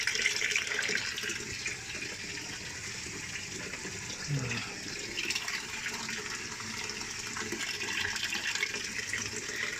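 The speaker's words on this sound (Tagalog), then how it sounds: "pero madami ng tubig pero hindi pa nagwawash" LG top-load automatic washing machine filling with water, a steady broad rushing and splashing that runs unbroken throughout, moderately loud and close, with no talk.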